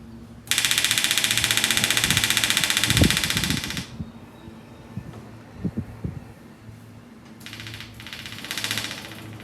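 A pump runs on a 1965 VW Beetle undergoing restoration, giving a steady loud mechanical whir that stops abruptly partway through, leaving a low hum with a few knocks before a quieter whir returns.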